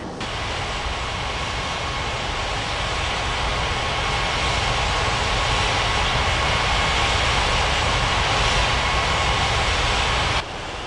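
Continuous jet airliner engine roar and rushing air in an air traffic control game set at a Rocky Mountains regional airport, a steady loud wash that holds for about ten seconds then drops abruptly near the end, with no voices.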